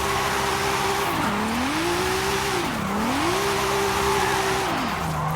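Racing car in Forza Horizon 5 from the Fast & Furious car pack with a stock-sounding exhaust, engine droning loud and steady while its pitch rises and dips repeatedly through gear changes, with faint tire squeal underneath.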